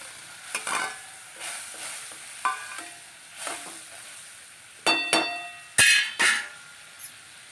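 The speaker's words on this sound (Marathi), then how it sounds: "आता यामध्ये आपण ह्या दिडकीच्या शेंगा टाकायच्या आहेत" Dolichos bean pods tossed into a hot pan with a little water, bursting into short sizzling surges between clinks and scrapes of stirring.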